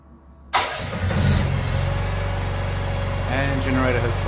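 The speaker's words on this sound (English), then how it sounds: "generator has started" After a moment of near silence, a backup generator engine cranks and catches abruptly when mains power is lost, then settles into a loud, steady idle hum nearby.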